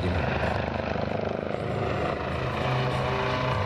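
Helicopter at the NATO Days airshow in Mošnov, Czech Republic, a loud continuous rotor and engine roar with rhythmic blade chop, heard close and steady.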